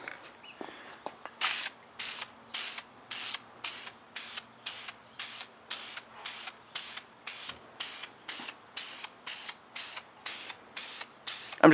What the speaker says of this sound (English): I'm going to go ahead and start using the vinyl and fabric spray